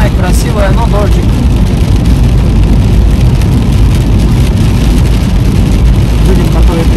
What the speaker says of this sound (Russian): дождик, дождик, дождик.